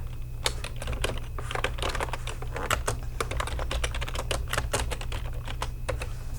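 Quick, uneven keystrokes on a computer keyboard while text is typed into MS Word, close and clear over a low steady hum, with no talking.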